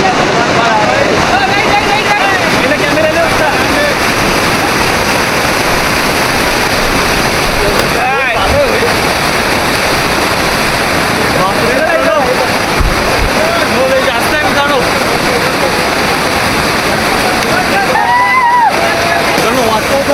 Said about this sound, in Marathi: इथं बघू शकता मध्ये एक पाण्याचं ओढं भेटलं आहे, ते पार करून जायचं